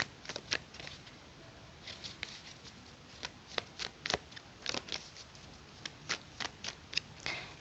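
Tarot cards being shuffled by hand, a series of quiet crisp riffles and taps in irregular bursts, close and soft with no talk.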